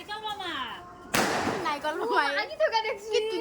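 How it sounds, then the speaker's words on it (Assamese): A firecracker bursts with a sharp, loud crack during Diwali and Kali Puja celebrations, its burst spreading into a noisy wash, while people speak nearby before and after the blast. "বাটত দেখোঁ ধমাধম মাৰি আছে বোমা"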